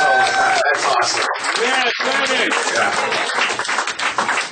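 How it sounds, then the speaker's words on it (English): Audience applause and clapping for a stand-up comedian at a roast, dense and sustained throughout, with voices and cheers mixed into the crowd noise. "Another round of applause for Dennis Shea"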